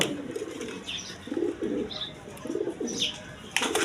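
Pigeons of mixed breeds kept for sale give soft, low cooing calls in short repeated bursts, fairly close, with a few higher chirps among them and faint background noise.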